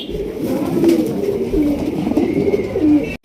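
Lahori pigeons coo in a row of soft, low, throaty calls, close and fairly loud, repeating steadily with no talking.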